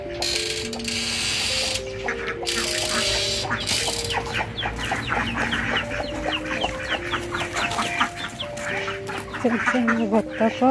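Chickens cluck steadily around a village home among ducks and other fowl, a dense stream of short calls mixed with a voice talking over music playing in the background.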